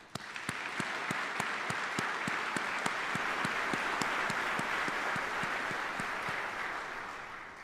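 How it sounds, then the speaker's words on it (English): Sustained applause from a large crowd at a military retirement ceremony, dense and steady clapping with a few sharper individual claps standing out, fading slightly at the end. "Let's give them a round of applause."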